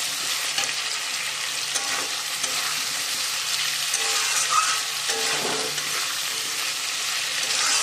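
Potatoes fry in oil with a cumin paste spice mixture, giving off a loud, sustained sizzle. Occasional stirring scrapes rise over the bubbling hiss near the middle, and no one speaks.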